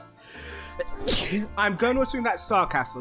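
A single sharp sneeze bursts out close by, followed at once by someone talking.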